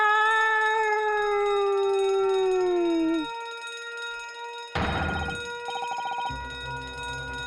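A ship's alarm rings in The Great Ace Attorney game: a sustained tone slides downward and cuts off, then after a short gap a loud, rattling bell-like ring bursts in and pulses before giving way to a low hum.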